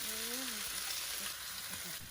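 Chopped onions sizzling and frying with golden roasted chicken in oil for an oil-free chicken biryani, a steady broadband hiss with a short tonal voice-like sound at the start and faint stirring clicks throughout.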